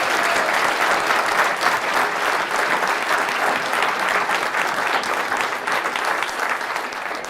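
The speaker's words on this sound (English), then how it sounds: "another round of applause" Dense, sustained applause from a large audience at a lecture event, steady and loud throughout with no voices over it.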